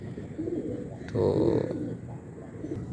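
Low, soft cooing of pigeons rises briefly in the middle, with a single spoken word and quiet rooftop ambience around it.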